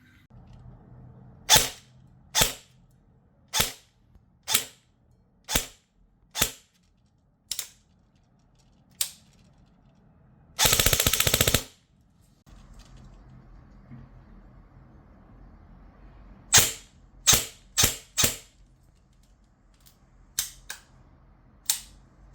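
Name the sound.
airsoft gun firing, testing Warhead Ronin brushless motor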